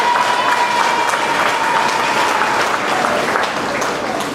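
A political gathering at Scout House, San Fernando, applauds Minister Mitchell with a brisk, continuous round of clapping from the audience in the hall.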